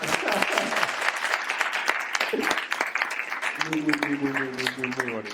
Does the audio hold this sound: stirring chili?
no